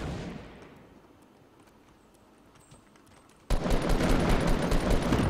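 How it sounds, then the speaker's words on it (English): Distant rolling gunfire in the video game Fortnite fades at first, then a sudden loud burst of dense rapid shots erupts close by and keeps going to the end. "I'm being sniped from behind"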